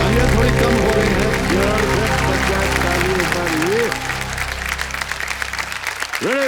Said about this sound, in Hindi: तालियां थोड़ी कम हो रही है